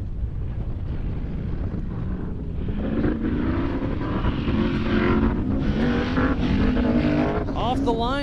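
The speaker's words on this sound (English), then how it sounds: "Off the line, it sounds like that's the number 31, Matt Tribino." Race car in the 4500 class launching off the line at the Metalcloak Stampede, Prairie City SVRA, California: a loud engine climbs steadily in pitch through the gears, with heavy wind buffeting on the microphone.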